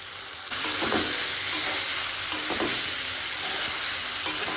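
Spices with chili powder and salt being stir-fried for chicken make a continuous close sizzle, with a few scraping stirs breaking through the hiss.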